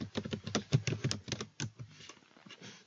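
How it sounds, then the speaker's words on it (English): Typing on a computer keyboard makes a quick run of close, crisp key clicks that slows and thins out toward the end, heard alone in a quiet room. "There on the search bar, you need to type in messenger.com."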